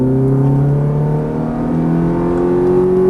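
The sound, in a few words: Ferrari F430 accelerating on a race track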